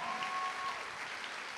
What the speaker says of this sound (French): Un tonnerre d'applaudissements pour Aurélie,